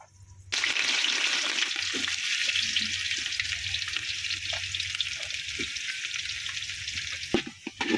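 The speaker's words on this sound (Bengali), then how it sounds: "এখন দিয়ে দিব হলো গিয়ে এই যে পেঁয়াজ কুচি।" Chopped onion hits hot oil with cinnamon, cardamom, cloves and bay leaf in a large pot for khichuri, bursting into a loud, sustained hiss that stays dense and even, with a few faint stirring knocks.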